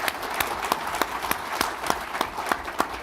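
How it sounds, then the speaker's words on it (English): Audience at a live podcast recording on a main stage gives a round of applause, moderately loud scattered clapping with distinct individual claps running throughout, no speech. "maybe we can get a round of applause for Laura to welcome."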